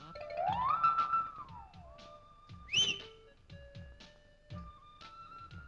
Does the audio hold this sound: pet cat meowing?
no